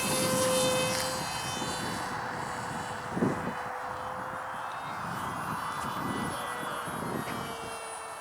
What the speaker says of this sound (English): Now let them make a pass down the runway.